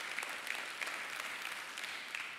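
A small crowd in a church claps steadily for a couple of seconds, a dense even patter of hands with no voices over it.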